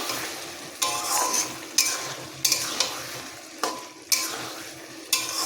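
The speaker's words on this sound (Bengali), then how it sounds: "পেঁয়াজটা এখন কষানো চলছে, একটু পরে আমি দেখাচ্ছি। কষানো হয়ে যায়, এখনো কষানো চলছে।" Onions sautéing in a pan of fish curry (lote fish jhaal), a steady sizzle broken every second or so by a sharp scrape of the spoon stirring, close and fairly loud with no talk.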